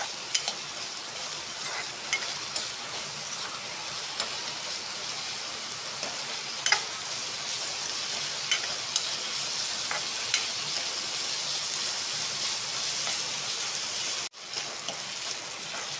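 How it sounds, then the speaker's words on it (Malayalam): Chopped onions sautéing and being stirred in a pan for a chickpea curry, a steady close sizzle with scattered scraping stirs throughout and a brief break near the end. "സവാള ചെറുതായി അരിഞ്ഞതും കൂടെ ഇട്ട് എല്ലാം കൂടെ ഒന്ന് വരട്ടിയെടുക്കാം"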